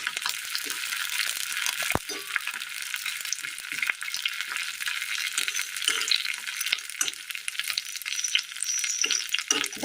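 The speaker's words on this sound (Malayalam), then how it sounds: "ഇതിലേക്ക് നമുക്ക് കറിവേപ്പില ഇട്ട് കൊടുക്കാം." Curry leaves sizzling with sautéed onions in a hot pan after the flame is turned off, a steady close crackling fry with sharp pops and occasional scrape of stirring.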